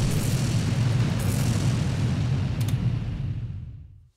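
A deep, rumbling explosion roars continuously, thick with low booming energy, then fades out toward the end.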